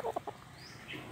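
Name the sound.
young chick chirping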